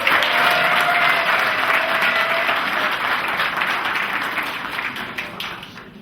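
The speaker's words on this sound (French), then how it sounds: "Applaudissons pour la grande dame." Wedding guests applaud together in a sustained burst of dense clapping that fills the room, slowly tapering in the final second.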